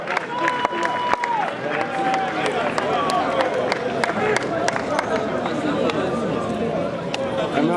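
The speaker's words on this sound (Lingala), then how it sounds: "Est-ce qu'on peut applaudir très très fort pour la carrière, pour la vie" A crowd applauds loudly for Maman Chaco at a comedians' celebration, steady dense clapping with cheers and babble running throughout, sharp individual claps popping out near and far.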